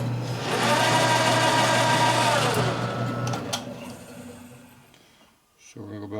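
A milling cutter grinds into the metal of a 1942 Harley-Davidson WLA springer fork part, a loud steady whirring cut that drops away after a few seconds into quiet before the machine hum returns.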